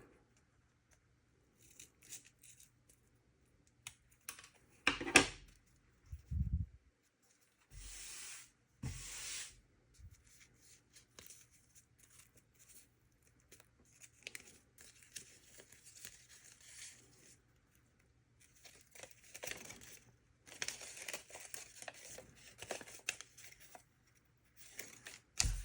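Scissors snipping paper while cutting out a paper snowflake, heard as close, irregular cuts and crinkles in scattered bursts separated by quiet pauses.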